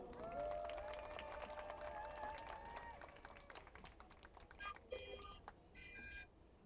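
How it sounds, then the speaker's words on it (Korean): Crowd applause at an outdoor labor rally against irregular employment, a steady wash of clapping from a gathered audience, fairly faint and distant, with scattered cheers and a few brief voices near the end. "뜨거운 박수로 모시겠습니다."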